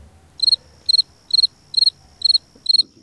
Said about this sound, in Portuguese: Eu escutei até o barulho de grilo aqui.